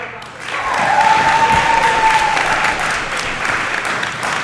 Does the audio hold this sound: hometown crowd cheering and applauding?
yes